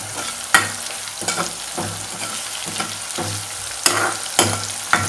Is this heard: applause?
no